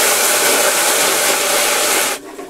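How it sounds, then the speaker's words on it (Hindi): Ginger garlic paste hits hot mustard oil already holding bay leaves, cloves and black cardamom, giving a loud, close, broadband frying hiss that cuts off sharply after about two seconds. "अदरक और लहसुन का पेस्ट डाल देंगे।"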